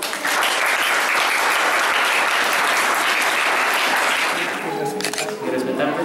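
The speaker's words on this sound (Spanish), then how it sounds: "Vamos a darles un aplauso." Guests at a wedding celebration applaud loudly and continuously, the clapping thinning near the end as voices start speaking over it.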